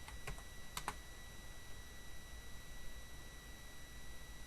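Several quick keystrokes on a computer keyboard, faint and close, in two short clusters against a steady electronic hum, then only the hum continues.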